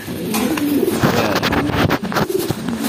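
Pigeons coo in soft, repeated throaty calls close by, layered over a dense rustle of fluttering and movement as a flock stirs.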